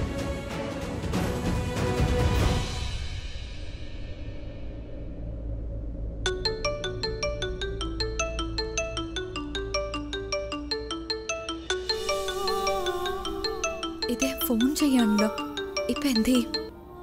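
A phone rings out unanswered: after a burst of voices at the start, a melodic ringtone plays its repeating tinkling phrase steadily and fairly clearly until the end.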